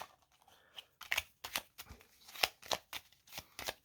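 Lenormand fortune-telling cards being shuffled by hand in a series of crisp riffling snaps and rustles, fairly close and quiet, with no talking over them.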